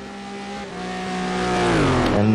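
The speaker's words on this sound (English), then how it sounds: "let's see if the Corvette power can be of any use here, as he will try to get the slipstream of the Porsche." A Corvette race car engine screams along a Nordschleife straight while chasing a Porsche's slipstream, a loud sustained high-revving drone rising steadily in pitch and volume.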